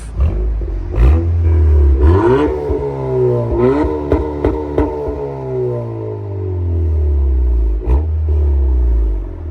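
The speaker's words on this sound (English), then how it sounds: "we're gonna get a couple of revs here from Naseef" Acura Integra A-spec fitted with an MBRP exhaust, revved several times while parked, each sharp blip swelling into a loud raspy roar before dropping back to a deep idle rumble, heard up close with no talking.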